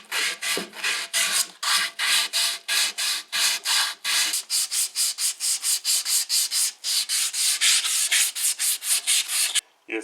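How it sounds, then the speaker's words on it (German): A Porsche 944 part is hand-sanded with sandpaper, its surface worked before painting: rapid, rhythmic back-and-forth scraping strokes, loud and close, about three per second, stopping briefly near the end, with no voices. "Vor dass wir das jetzt lackieren, gehen wir mit dem Schleifpapier drüber."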